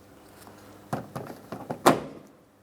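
Exterior front door handle being pulled out of place on a 2011-2026 Mitsubishi Outlander, a quick series of close plastic and metal clicks and thunks ending in one sharp louder clack.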